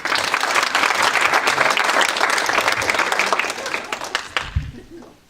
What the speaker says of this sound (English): So before I get started on my act, give yourselves a big round of applause,